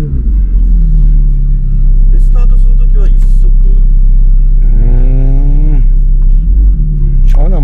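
A Ferrari F430 supercar's engine rumbles steadily while driving, a loud low drone with a brief rising rev near the end, heard under continuous conversation between people inside the car.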